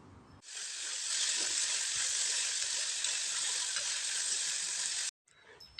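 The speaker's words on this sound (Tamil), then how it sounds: "தக்காளி சேர்த்துட்டு எல்லாத்தையும் நல்லா ஒரு முறை வதக்கி விட்டுக்கலாம்" Tomatoes and green chillies sautéing in a pan for cauliflower gravy make a bright, even hiss that starts abruptly, holds steady for several seconds, then cuts off sharply near the end.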